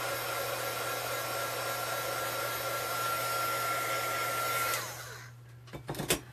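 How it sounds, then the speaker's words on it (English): A heat gun blows a steady, loud whooshing hiss while setting embossing on a handmade card, then winds down and cuts off, followed by a few light clicks and taps. "I'm just going to use my heat gun just to kind of set that"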